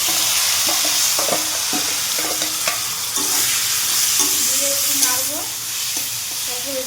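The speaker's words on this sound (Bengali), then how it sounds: "এবার এটার মধ্যে পেঁয়াজ রসুন আদা সবগুলি মশলা দিয়ে দিলাম" Onion, garlic, ginger and spices sizzle loudly in a pan with fried potatoes, with frequent stirring scrapes and clatters of a spoon close by.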